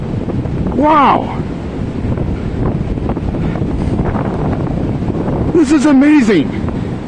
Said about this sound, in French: And listen to that wind howl, folks.